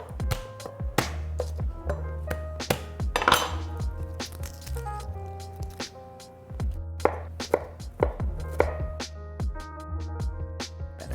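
A knife chops garlic cloves on a board: a run of sharp, irregular taps and clicks, close and fairly loud, with a short pause midway and no talking.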